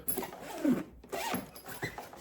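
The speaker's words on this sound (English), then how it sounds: "On this first panel, the flip open, it's your standard zip." Standard zip opening on the flip-open front panel of a Quince spinner suitcase, heard close and quiet as several short rasping pulls with brief pauses between them.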